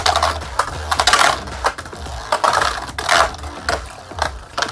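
Beyblade spinning tops battle in a stadium, giving rapid irregular clicks and clattering collisions with a low whir beneath, loud and close throughout.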